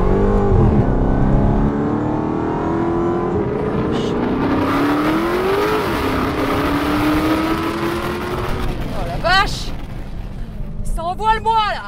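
A Dodge Charger SRT Hellcat Widebody with 646 horsepower accelerates hard on a track over 1000 meters, a loud, rising engine roar climbing through the gears with brief shift dips, while a person talks over it.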